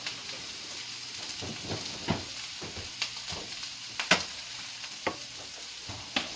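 Japchae stir-fries in a pan at moderate distance, a low continuous sizzle broken by repeated soft clinks and scrapes of stirring, with one sharper knock near the end.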